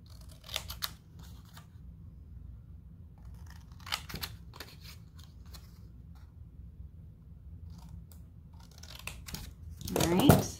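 Scissors snip through folded paper in a few scattered cuts with soft rustling between, ending in a louder burst of crinkling and cutting.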